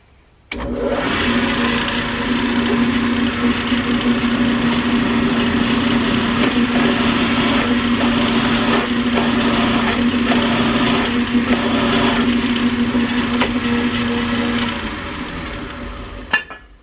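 A drill driven with a sturdy bit taken from a lathe bores into a vintage Craftsman 5242 vise, a loud steady motor whine running for about fifteen seconds before winding down.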